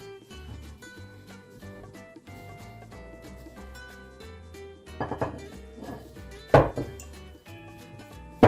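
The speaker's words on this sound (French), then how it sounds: "maintenant on va venir mélanger et former la boule avec de l'eau tiède" Arepa corn dough with olive oil and warm water is mixed in a bowl, giving a few close clinks and thunks around the middle and end over steady background music.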